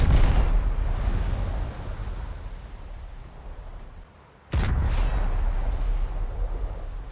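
A destroyer fires 130mm SAP shells in the naval combat of War Thunder. Two heavy, sharp blasts land, one at the start and one partway through, and each trails off into a long, fading rumble.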